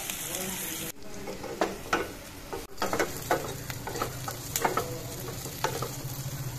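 Panch phoron spices frying in hot oil for an egg curry while being stirred with a spoon; a low steady sizzle under scattered close scraping and tapping strokes against the pan.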